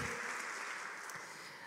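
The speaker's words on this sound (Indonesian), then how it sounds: "Berikan tepuk tangan meriah buat Tuhan sekali lagi." A congregation applauding in church during a sermon, a short burst of steady, diffuse clapping that sounds distant and quiet.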